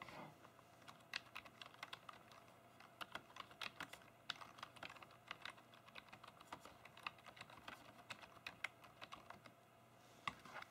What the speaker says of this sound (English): okay, so I've typed something in there